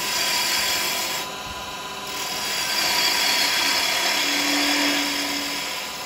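A 12 mm round carbide chisel chamfers the edge of a spinning wooden Christmas ornament on a lathe, giving a steady close whirring hum with a brief cutting scrape and no speech.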